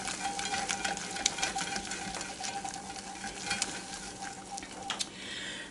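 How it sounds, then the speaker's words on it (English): A spoon stirs a crab imperial mixture with sauce and minced onions in a bowl, making a close, continuous wet scraping and squelching with a few sharper clinks. "and give that a stir quick."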